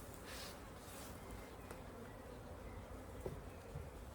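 Dense, steady buzzing of many bees hovering close around a beekeeper at an opened top bar hive during inspection, with a faint rustle or tap near the end.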